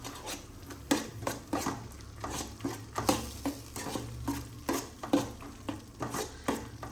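A spoon stirs and scrapes through a thick Tamil-style fish curry in a pot, producing rhythmic clinking and scraping strokes about twice a second, close and moderately quiet, with a faint simmer underneath.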